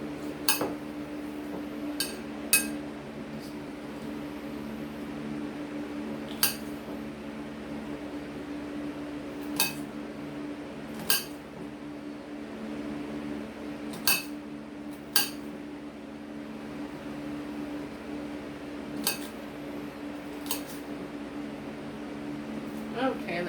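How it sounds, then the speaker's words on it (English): A knife chops onions on a cutting board in sharp, sparse taps spread irregularly over a steady appliance hum in a kitchen, with a voice talking at times. "these onions are so little, that's why I'm cutting up"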